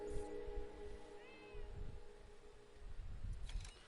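A pet cat lets out one short, soft meow early on, set against a quiet, steady background hum with scattered low thumps.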